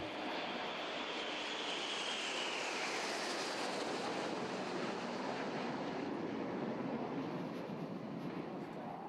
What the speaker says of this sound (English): the Skyhawk still flies with some of the air forces of the world